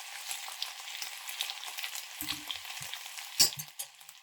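Cabbage stir-fried in a hot pan with dried shrimp and anchovy fish sauce, a close, continuous hiss of sizzling oil with a few soft low knocks and a sharp clatter of spatula on pan, no talking.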